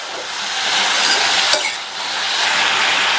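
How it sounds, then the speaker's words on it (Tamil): Radish and raw banana masala stir-fried in a pan on high flame, a loud steady sizzle and hiss with a brief scrape of the spoon partway through, close up and without talk. "ஹை ஃப்ளேமில் வச்சு பிரட்டி விட்டுக்கோங்க."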